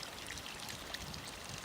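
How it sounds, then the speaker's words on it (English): Water running steadily through a pipe down to a ram pump at a tiny house cabin, a faint, even rushing and trickling flow with no talking. "the water runs from there all the way down to the ram pump"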